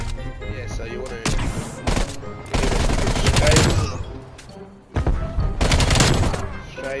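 Video game gunfire during a strafing fight, with bursts of rapid automatic shots and dense crackling volleys that start and stop abruptly, loud and close, a voice partly mixed in underneath.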